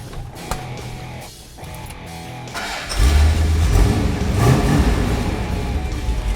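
A Mopar 426 Hemi making 425 horsepower, fed by inline dual four-barrel carburetors, fires up about halfway through after some quiet handling noise, then settles into a loud, deep, steady rumble.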